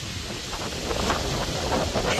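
Wind blowing across a garden, a steady broadband rush buffeting the microphone with gusty swells, loud and continuous with no speech.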